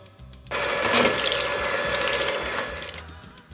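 A mixer beats a batter of coconut milk, rice flour and room-temperature butter, making a steady whirring, churning hiss that starts abruptly and runs for about two and a half seconds before stopping.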